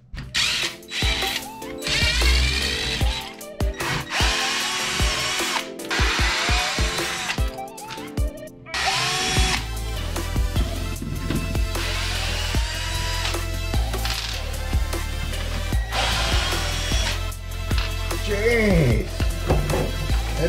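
A power tool whirs and ratchets in bursts while opening the front and rear differentials of a Losi DBXL-E RC car, loud and close, with pauses and handling clatter between runs.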